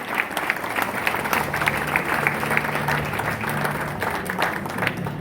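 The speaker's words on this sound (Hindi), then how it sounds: "जोरदार तालियां बजाएं हमारे सारे म्यूजिशियंस के लिए" An audience applauds the musicians at an Independence Day show, a steady wash of crowd clapping lasting several seconds with a low sustained tone underneath.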